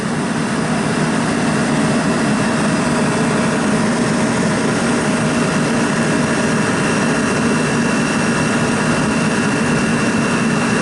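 A pizza oven's condenser fan motor, manually cut in, runs steadily with a continuous broad whirring hum and faint tonal whine, unchanging and fairly loud throughout with no voices.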